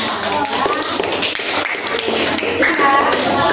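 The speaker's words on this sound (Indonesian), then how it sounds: "Beri tepuk tangan semuanya." Children clapping together in a classroom, a dense, steady patter of many hands lasting throughout, with voices chattering underneath.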